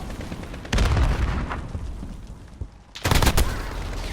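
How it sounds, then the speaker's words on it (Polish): Two heavy blasts go off in a video game firefight, the first about a second in and a louder second one near the end, each a sharp broadband boom with rumbling decay. "Granat!"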